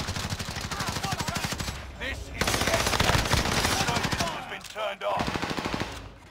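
Rapid automatic gunfire in a Call of Duty Warzone match on Rebirth Island, loud, dense bursts continuing almost without break, with a brief lull midway and near the end, and a voice speaking briefly.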